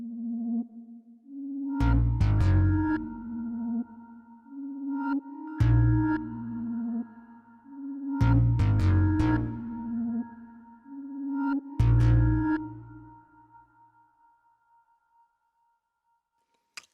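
Trap beat built in Logic Pro X, with deep booming bass hits and drums in four loud phrases plus a melodic loop, a reverb tail washing over them before fading to silence.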